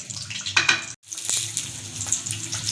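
Green chili pakoras, battered chili fritters, fry in hot oil with a continuous crackling sizzle and bubbling that drops out for a moment before resuming.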